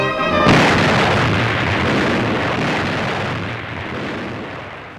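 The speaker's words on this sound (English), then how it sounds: "the Iowa's commander, Captain McCrae, orders her 9 16-inch guns to fire a mighty salvo" A salvo from the battleship Iowa's nine 16-inch guns erupts in one huge boom that rolls on as a long, loud, rumbling roar fading slowly over several seconds.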